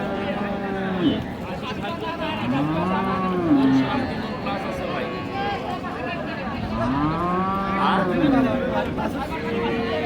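Cows and livestock at a rainy-day cattle market where cows and calves are traded, with two loud, drawn-out moos standing out over a constant murmur of crowd chatter and nearby talk.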